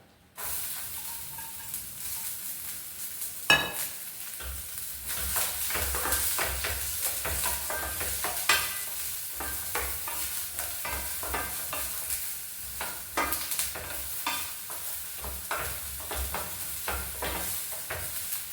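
Chopped ginger, green chili and onion drop into hot coconut oil with a sudden loud hiss, then fry with a steady sizzle and scraping stirs close by.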